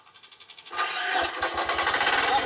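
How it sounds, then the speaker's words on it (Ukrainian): A Grunwelt GW FT-120 mini tractor engine catches and revs up close, a quick chugging start that rises into a loud, pulsing run. "Додаємо ось так оберти, як в звичайних мотоблоках."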